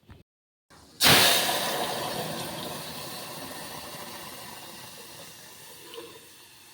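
Dal is tempered in a home kitchen with panch phoron and dried red chilli: after a brief pause a loud sudden sizzle bursts out, then fades slowly into a steady hiss, close up with no talk.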